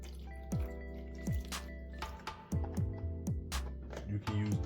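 Chicken broth poured into a General Tso sauce of soy sauce and sesame oil, giving a few close, soft liquid glugs and drips at intervals, in a quiet kitchen.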